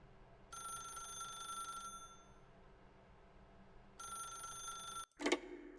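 Telephone in The Stanley Parable: Ultra Deluxe rings in two bursts with a long pause between, each a steady electronic trill, followed by a short clatter near the end.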